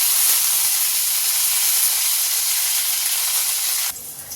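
Green chillies and curry leaves hit hot oil for sambar, a loud, close, continuous hiss and sizzle that drops off sharply near the end.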